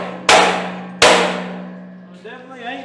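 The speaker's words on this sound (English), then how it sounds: "Let me get a big hammer and whoop on it." Two loud metallic clangs about a second apart as a big hammer strikes a steel trailer jack leg, each ringing out and decaying, followed by faint rustling.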